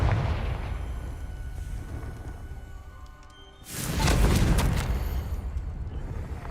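Confringo blasting spell explosion in the Hogwarts Legacy video game: a loud, sudden burst about midway that swells into a sustained roaring blast over a low rumbling background, with no talking.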